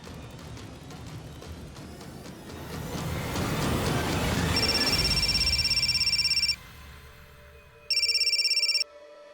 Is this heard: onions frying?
no